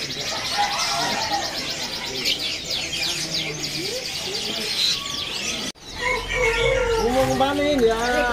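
Many caged songbirds chirp and whistle continuously at a bird market kiosk stocking black magpie-robins, loud and close, with dense overlapping calls and a voice talking over them.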